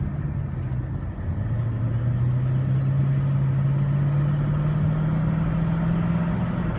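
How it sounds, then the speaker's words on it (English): Supercharged, modified 2014 Dodge Charger SRT8 in track mode, its engine holding a steady, close, loud drone that dips briefly and then climbs slowly in pitch, with no talk over it. "Now it's in track mode. Faster shifts, firmer shifts, downshifts more aggressively."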